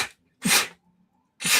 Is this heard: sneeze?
yes